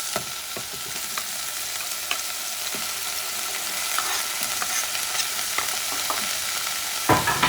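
Garlic sizzling in a frying pan, a steady close hiss with occasional utensil taps and scrapes as it is stirred, growing slightly louder toward the end.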